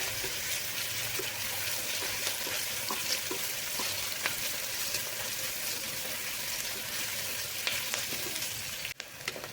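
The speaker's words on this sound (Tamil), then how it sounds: "வெங்காயத்தை வந்து நல்லா கலர் மாற அளவுக்கு கொஞ்சம் வணக்கிக்கோங்க" Onions for kurma sautéing in a pan, a steady close sizzle with occasional stirring clicks and scrapes, no talking.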